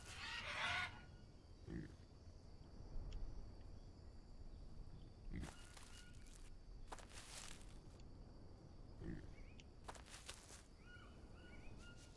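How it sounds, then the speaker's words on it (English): A pig in the jungle survival game Green Hell grunts and oinks a few times in short, faint bursts over a steady ambience of insects and birds. "Do you hear that? What is that noise? That's a piggy."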